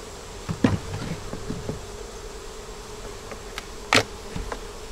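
Honey bees buzz around an open eight-frame hive box topped with a honey super, a faint steady hum with a few louder individual bees passing close to the ear.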